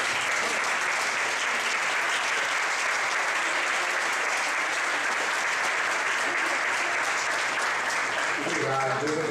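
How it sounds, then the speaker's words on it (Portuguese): A church congregation stands and applauds, a dense, steady wash of clapping that fills the whole stretch, with a voice emerging near the end. "queria que você ficasse de pé e aplaudisse o Senhor pela sua vida."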